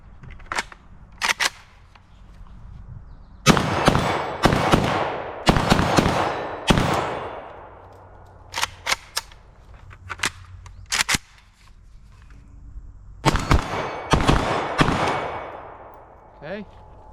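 A PSA AK-74 rifle fired outdoors, sharp loud cracks in separate groups: single shots, quick doubles and short strings, with pauses between and occasional talking in the gaps.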